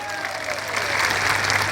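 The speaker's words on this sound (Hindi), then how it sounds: "अरे सही है तो तालियां बजाओ" Crowd applause at an outdoor political rally in Madhya Pradesh, a loud continuous roar of many hands clapping that swells and holds, with faint crowd noise beneath.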